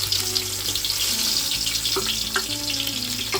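Cumin and onion frying in hot oil for chicken biryani, a continuous close sizzle with soft crackles and a few stirring clinks over a constant hiss.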